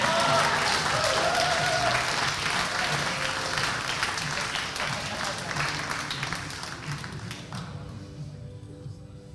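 An audience applauds for the new champion at the 2023 Queensland Lead State Titles Open A climbing finals, a sustained wash of many hands clapping that gradually fades out, with some talk mixed in.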